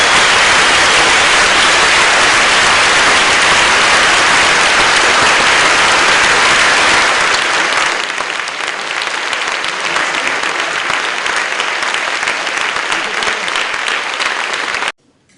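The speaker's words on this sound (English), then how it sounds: "Let's have a round of applause." Sustained applause from a conference audience, loud and dense for about eight seconds, then thinning to lighter, steadier clapping before cutting off abruptly near the end.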